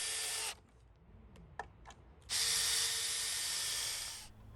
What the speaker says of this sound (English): Pre-drill with a smaller drill bit and drive in the screws